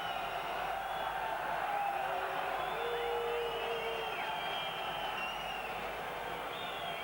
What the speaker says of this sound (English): Crowd doing their best to put Pat Richards off.